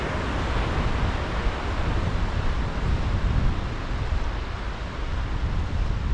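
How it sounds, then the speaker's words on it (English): Strong wind blows on Merthyr Mawr beach by the sea, a loud, constant roar buffeting the microphone with the surf blended in. It never lets up and no other sound stands out. "if this wind would drop, it'd be very pleasant"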